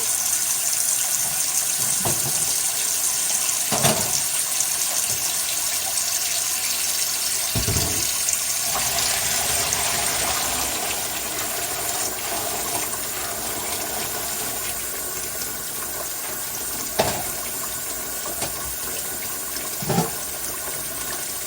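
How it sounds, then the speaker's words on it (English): Hot tap water pours steadily into a container in a sink while washing wool, a continuous rushing splash with occasional small knocks and clunks, no voices. "I'm going to add my hot water again and my hot tap water"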